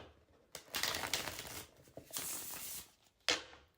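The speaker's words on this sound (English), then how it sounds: "So now it's time to do our shuffle test with the Sion Tarot." Matte-finish Sion Tarot cards being shuffled by hand, giving several bursts of crisp papery riffling and sliding, with short pauses between and a final quick riffle, close and fairly quiet, no talking.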